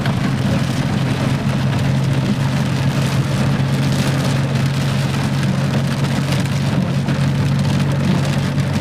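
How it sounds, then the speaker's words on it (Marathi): Heavy monsoon downpour over the Mayani area, a loud unbroken roar of rain hammering surfaces that holds constant throughout. "मायनी परिसराला सध्या मुसळधार पावसाने चांगलं झोडपलं."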